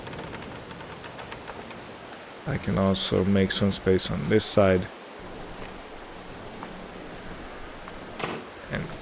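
Rain falls steadily in a farming simulation game as a soft, constant hiss that runs through the whole stretch, with someone talking over it for a few seconds midway.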